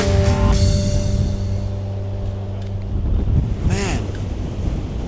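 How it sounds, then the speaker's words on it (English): Strong wind at a stormy coast buffets the microphone in loud, rushing gusts, with a steady tonal hum early on fading into rough roaring turbulence. "Look at the wind."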